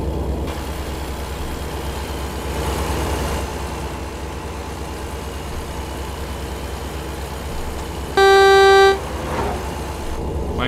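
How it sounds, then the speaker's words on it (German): A truck engine idles steadily in American Truck Simulator, then a loud, brassy horn blares once for under a second before the rumble continues alone. "Mein Gott, ist die Hupe laut."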